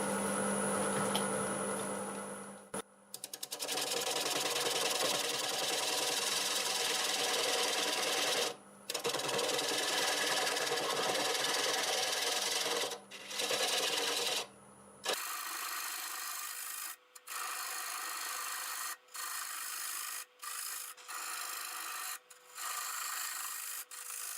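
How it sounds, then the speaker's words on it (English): A half-inch bowl gouge cuts sweet gum wood on a lathe turning about 600 RPM, giving a loud, continuous rasping shear broken by short pauses as the tool lifts off, then a thinner scraping tone in later passes. "So I'm going to start with my 1/2 inch bowl gouge, and we're spinning about 600 RPM."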